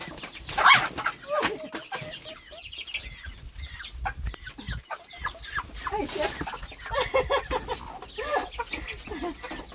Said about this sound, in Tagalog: nandito yung manok na kakatayin natin ngayon.